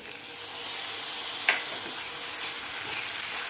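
Chopped tomato added to golden-browned onions in a pan for a village-style fresh pigeon pea amti, sizzling and frying steadily at close range, with a brief stirring scrape partway through.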